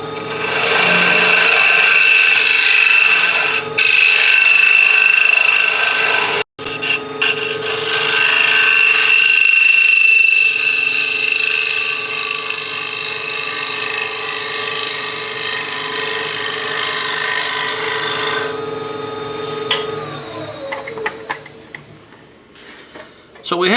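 A wood lathe whirs steadily while a tool scrapes and rasps against a spinning wooden bowl with a very light touch, continuous and close, with a brief interruption before winding down.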